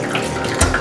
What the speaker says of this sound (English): Squeeze all of your excess water